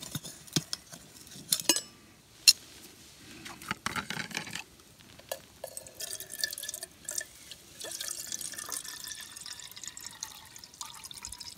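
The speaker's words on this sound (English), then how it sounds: "I'll just fill my little kettle with water." Water trickles and drips into a small kettle, with intermittent splashes, metallic clinks and taps in a quiet outdoor setting, close and fairly soft, with no talk.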